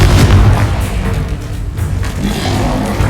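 A Confringo fire spell bursts in the Hogwarts Legacy video game, giving a loud, dense boom whose heavy low rumble fills the whole moment with no pause, then stays steady with crackling texture.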